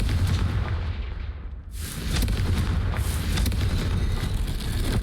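Confringo fire spell in the Hogwarts Legacy video game sets off a continuous roaring blast, a dense rumbling explosion that dips briefly and then surges again, loud and sustained without speech.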